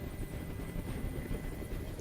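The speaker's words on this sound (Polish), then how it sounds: "Każ swoim odwołać helikopter!" A helicopter in the video game Detroit: Become Human drones in a low, continuous rotor rumble, steady and moderately distant, with no voices.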